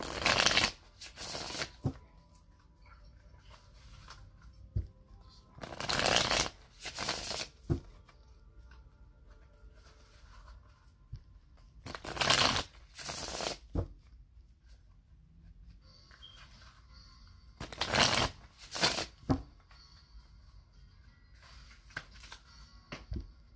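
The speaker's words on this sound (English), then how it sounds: "I'm going to shuffle it three more times" Tarot cards are shuffled in repeated bursts, each a loud, close riffling flutter lasting a second or two, separated by quiet pauses, with no speech.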